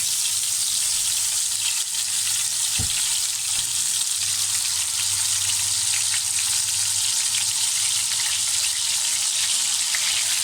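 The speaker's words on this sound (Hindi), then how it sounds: "बस 3-3 पीस करके हम तलेंगे। तो इसको फ्राई करते हैं" Green chicken tikka pieces frying in hot oil, three at a time, giving a loud, steady, crackling sizzle close up that runs without a break, with a single dull knock early on.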